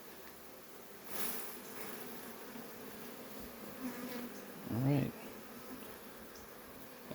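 Honey bees buzz around an opened hive during an inspection, a soft continuous hum with a louder bee zipping close by near the middle, while a person briefly speaks.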